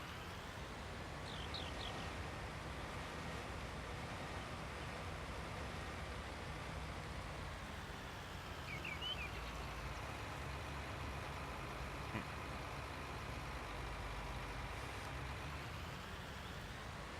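A tractor in the Farming Simulator 19 video game backs up with a steady, low engine drone and a faint higher whine, running evenly throughout at moderate level with no voices.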